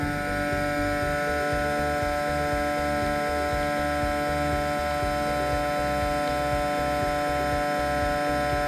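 A vacuum sealer's small pump drones steadily at moderate level, pulling air out continuously without pause or change.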